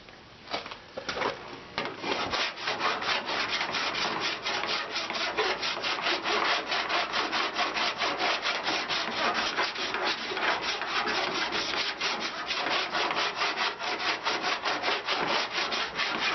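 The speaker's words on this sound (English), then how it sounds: "I've been filing on this thing for quite a while now" A hand file rasps back and forth over lead-free auto body solder on a patch panel seam, the strokes dense and rhythmic and continuing close and steady for the whole stretch, with no voices over them.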